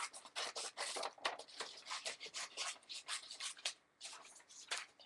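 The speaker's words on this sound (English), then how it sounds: "I'm going to cut that one out." Scissors cut a paper butterfly shape for a mixed media art journal, giving close, rapid snips and papery rustles in an uneven rhythm for several seconds, with one brief pause near the end.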